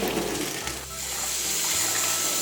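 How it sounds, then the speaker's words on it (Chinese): Boiled fox nut (euryale) seeds are poured out and rinsed, producing a close, continuous rush of running and splashing water that holds steady throughout. "芡实煮开2分钟，来把它倒出来洗干净"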